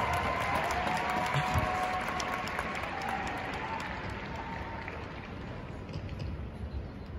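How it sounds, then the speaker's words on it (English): Large conference crowd in a Salt Lake City arena gives sustained, dense applause for leaders in the audience. The clapping is steady and loud and fades slightly toward the end, with faint crowd noise underneath. "I think we should give the biggest round of applause to all our leaders in the crowd."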